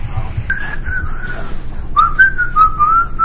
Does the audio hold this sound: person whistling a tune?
yes